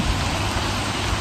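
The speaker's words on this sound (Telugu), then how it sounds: "వర్షం పడుతుంది." Steady rain falls during a one-day car trip from Hyderabad to Yadagirigutta, a dense, even hiss of drops that fills the scene without letting up, with no voices over it.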